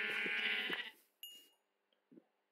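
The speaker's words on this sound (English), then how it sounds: "Some sheep." Sheep in a video game give a loud, harmonic bleat up front, followed by a few short, fainter bleats and blips with quiet gaps between them.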